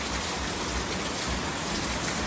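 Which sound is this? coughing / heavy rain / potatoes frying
heavy rain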